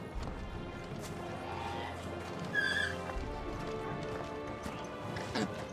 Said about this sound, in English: Your steed is in fine fettle, my lord.